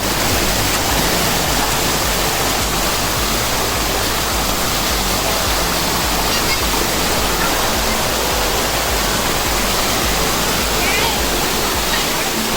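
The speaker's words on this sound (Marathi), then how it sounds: "आला वॉटरफॉल आलेला आहे बघा तर हे बघा तुम्ही वॉटरफॉल बघू शकता" A monsoon waterfall near a Khandoba temple roars in a steady, loud, unbroken rush of falling water that fills the whole scene without pause.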